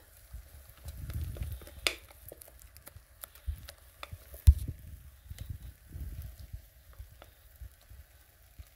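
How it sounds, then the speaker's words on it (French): Rested dough for a lemonade cake hisses and crackles softly in a very hot frying pan, a low sizzle with occasional light pops and scrapes, fairly quiet throughout. "Après que la pâte soit bien reposée, on va la mettre dans une poêle très chaude."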